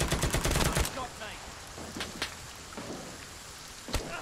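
Gunfire in the Vietnam war shooter Rising Storm 2: Vietnam on a night map, opening with a rapid automatic burst, then scattered distant single shots and a sharp crack near the end over a quiet, rustling background.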